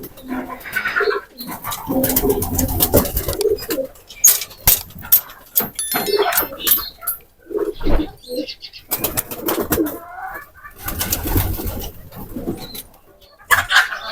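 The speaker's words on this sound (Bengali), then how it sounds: "এখন কবুতরগুলো ছেড়ে দিব" Pigeons released from their enclosure coo and flap their wings, with irregular bursts of wingbeats and scuffling close by, mixed with intermittent coos and clattering.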